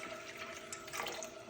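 Water is poured into active sourdough starter in a container on a kitchen scale while making rye sourdough. It is a brief, faint, steady trickling pour with no talking.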